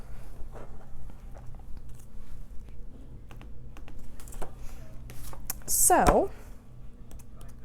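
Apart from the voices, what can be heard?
clicking on a computer keyboard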